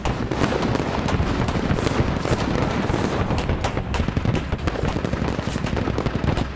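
Sustained machine gun fire during a video game base defense, rapid continuous bursts of gunfire filling the whole stretch, loud and dense with explosions mixed in and almost no talk.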